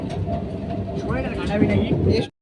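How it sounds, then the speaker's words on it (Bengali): Inside a moving train bound for Lakshmikantapur, a low steady rumble of the carriage runs throughout under nearby talking, then cuts off abruptly near the end. "তো চলো, ট্রেনে বসে আছি।"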